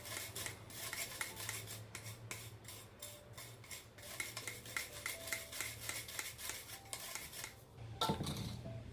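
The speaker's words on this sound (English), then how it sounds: "Because of the carrot powder, I have to mix and mix and mix and mix and mix properly." A spoon scrapes and rasps steadily around a bowl, stirring homemade baby multi-cereal mixed with carrot powder. The scraping is continuous and rhythmic, faint and close, with no voices.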